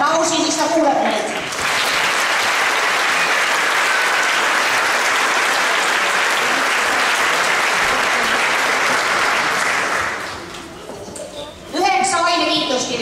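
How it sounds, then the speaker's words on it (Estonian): An audience at a ninth-grade school graduation ceremony in Tartu gives sustained, loud applause for about nine seconds, with a speaking voice just before and after. "Palun suuremat aplausi, siis ta kuuleb meid."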